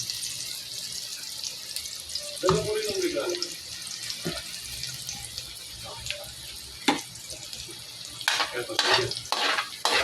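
Sardines sautéing with garlic and onion in a pan give a steady close sizzle, broken by a few louder bursts of stirring and scraping of the spoon against the pan, with brief muffled voice sounds in between.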